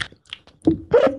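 A man imitates munching with his mouth: a few soft smacking clicks, then two louder, close, voiced chomping bursts.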